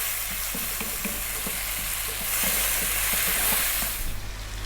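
Tomatoes sizzle and fry in a pan for a Punjabi bone-in lamb curry, a loud continuous hiss with rhythmic stirring scrapes, rising briefly louder near the middle, no voices.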